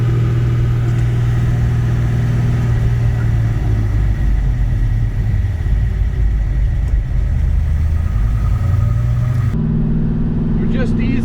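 Car interior during brake bedding, starting with light braking and building to moderate stops on glazed rotors; steady engine and road drone with a pitch change as the car slows, under continuous talking.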